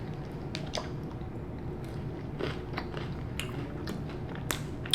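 Chewing on crunchy Chicago food in sauce, close-up wet crunches and soft squishy bites in an irregular rhythm, fairly quiet with no talking.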